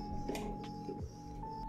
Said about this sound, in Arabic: على فكرة الطابعة شوية بطيئة لكن ما أمانع صراحة